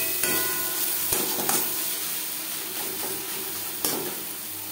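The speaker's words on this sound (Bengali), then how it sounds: "লবণ হলুদ পেঁয়াজ ও মশলার সাথে বেশ ভালো করে মিক্স করে দেবো" Boal fish roe is stirred in a pan with salt, turmeric, onion and spices, a steady close sizzle broken by a few sharp scrapes and knocks of a spoon against the pan, no talk.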